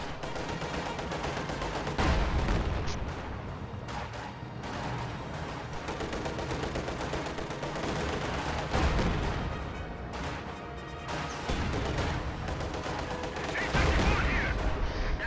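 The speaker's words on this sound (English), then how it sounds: "Another light artillery barrage just got dropped" A light artillery barrage in a World War II strategy game, with deep booming impacts and crackling gunfire mixed together in a steady, loud battle din that swells at several points.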